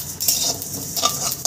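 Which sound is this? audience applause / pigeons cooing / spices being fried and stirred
spices being fried and stirred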